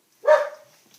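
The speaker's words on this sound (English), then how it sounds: "I'm sorry about my dog." A pet dog indoors lets out a single short, sharp bark nearby, then quiet.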